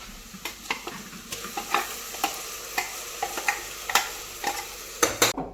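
Ground masala paste is stirred into roasted onions in a hot pan, giving a steady sizzle broken by repeated scraping taps of the spoon, with no talking.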